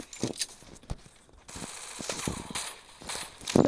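Gunfire in the mobile battle royale game Free Fire MAX, a few sharp shots scattered through the clip, the last burst loudest, over a dense, steady game soundscape.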